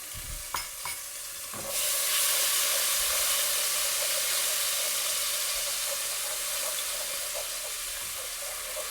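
Minced garlic drops into hot olive oil in a pan: a few clinks, then a loud, steady sizzle that starts suddenly and hisses on evenly, with no talking.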